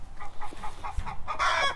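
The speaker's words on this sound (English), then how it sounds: "You can hear one squawking over there." Backyard hens squawk and cluck in a rapid, uneven burst that grows louder and shriller toward the end, heard close by with no talking over it.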